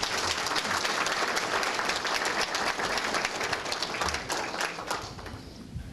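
Audience at the Caldwell EDC awards event applauding, a dense, steady wash of many clapping hands heard at a moderate distance, easing slightly toward the end.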